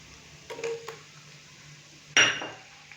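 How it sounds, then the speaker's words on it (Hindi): Finely chopped onion drops into a pan of frying garlic paste; a few light utensil clinks come first, then a sudden sharp burst that quickly fades into a low sizzle. "अभी मैं इसके अंदर एक अदद नॉर्मल साइज का प्याज बारीक कट किया हुआ डालूंगा"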